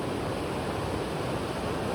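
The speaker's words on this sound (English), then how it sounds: "you can hear the rapid pretty well here" Class IV river rapid at Magic Falls on the Kennebec, a steady, dense roar of churning whitewater heard from close by, constant and unbroken with no voices.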